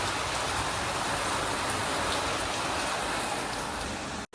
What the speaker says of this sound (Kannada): ಮಳೆ ಬೇರೆ ಜೋರಾಗ್ತಿದೆ